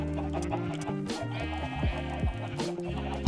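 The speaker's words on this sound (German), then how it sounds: "Wie sieht es mit euch aus, Hühner? Wollt ihr auch in den Freilauf?" Minecraft chickens clucking in short repeated bursts, with bleating sheep mixed in, over a steady game background with no talk.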